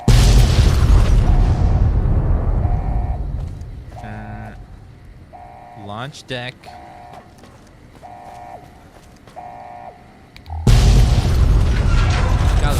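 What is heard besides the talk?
explosions in Fallout New Vegas video game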